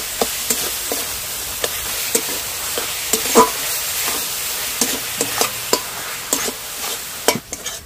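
Grated coconut being stirred into melted jaggery and sugar in a pan for puli pitha filling, with repeated scraping stir strokes over a steady low sizzle, close and clear, no voices.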